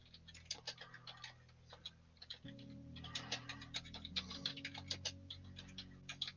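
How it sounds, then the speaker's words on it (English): Typing on a loud computer keyboard produces rapid, irregular clicking and clacking, fairly close and steady, over a constant low hum with no talking. "Can you guys hear me typing?"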